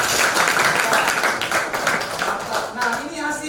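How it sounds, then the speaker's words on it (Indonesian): Classroom applause from a group of students, dense brisk clapping that runs steadily throughout, fairly loud and close, with voices talking over it. "Wow, tepuk tangan."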